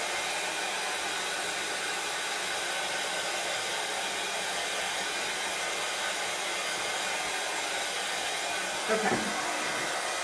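A hair dryer blows steadily and loudly at close range, drying spackle on a Dollar Tree wood pumpkin; the constant rushing hiss runs throughout, with a brief spoken word near the end.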